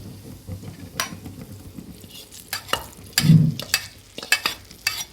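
Chilies roasting in a hot pan: stirring and scraping with a light sizzle, irregular clinks and scrapes rising in bursts over a steady background hiss.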